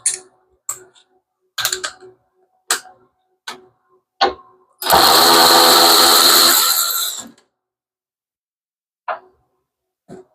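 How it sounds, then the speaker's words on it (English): A power tool whirs for about two seconds during repair of an LG washing machine's water pump, set among sparse clicks and clanks of hand tools and parts. "I went and got power tools,"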